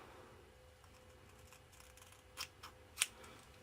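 Scissors cutting hair into bangs, heard close and quiet: a few crisp snips, the last and loudest near the end, over faint room hiss with no talk.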